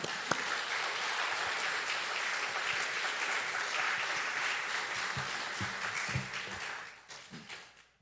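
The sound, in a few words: applause welcoming pastor Jeremy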